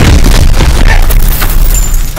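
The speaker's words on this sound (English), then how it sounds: "Stukas, inbound." Explosions from a Stuka dive bomber attack in Call of Duty: WWII, a loud, close, continuous roar of booming blasts filling the whole stretch with no pause.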